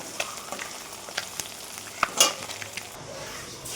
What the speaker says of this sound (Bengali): চলো এক এক করে ডিমগুলোকে ভেজে নিই।